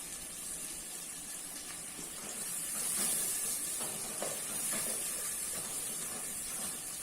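Onion frying in a pan, a steady soft sizzle and hiss with faint crackles throughout, moderately quiet and close.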